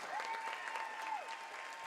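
An audience at an FCCLA event applauds a guest speaker with steady, dense clapping throughout, while a faint high tone sustains in the background.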